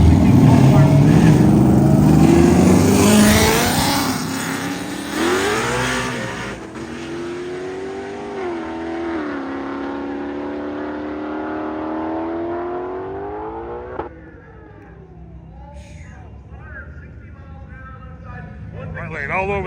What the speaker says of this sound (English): In the right lane, 20 model GT500X.